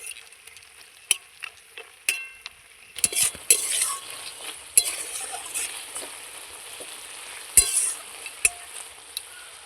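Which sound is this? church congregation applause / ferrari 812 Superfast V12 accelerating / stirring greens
stirring greens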